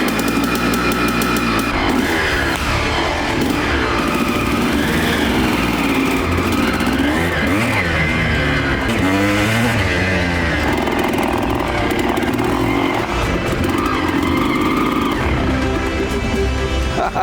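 A small Kawasaki motorcycle engine revs loudly and continuously close by, its pitch climbing and falling through repeated throttle blips with a raspy, buzzing tone and no talking.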